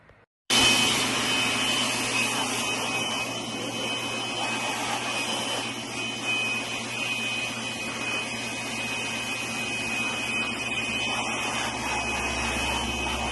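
Fuel injection cleaning machine working on an engine during a full service: a continuous, steady, broadband hiss and hum lasting over twelve seconds, close and even, with no voices.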